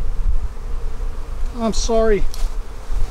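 Honey bees buzz close by at a small hive during an inspection, with rising and falling drones, and a person speaks briefly over them.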